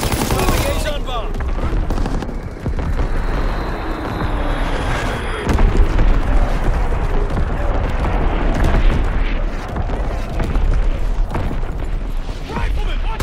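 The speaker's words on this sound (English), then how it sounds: "Firing for full effect. Target zone locked. Moving Azon bomb." Artillery bombardment in the World War II shooter Call of Duty WW2: dense, loud, continuous booming blasts and crackling gunfire rolling together. Game voice lines are spoken over the barrage.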